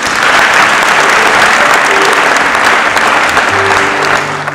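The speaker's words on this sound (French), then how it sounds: "Acclamons pour Jésus." A church congregation applauding in praise of Jesus, loud and sustained clapping from many hands that fills the room evenly and fades slightly at the end, with no speech over it.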